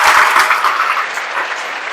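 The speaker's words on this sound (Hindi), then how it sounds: "मिताली के लिए जोरदार ताली बजा दीजिए भाई।" Audience applause for a student at a coaching-class celebration, a dense, steady wash of clapping hands that holds loud and even throughout.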